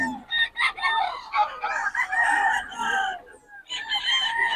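Stag gamecocks at the Bocaue market crowing close and loud, several overlapping cock-a-doodle calls with clucks between them, and a voice faintly in the background.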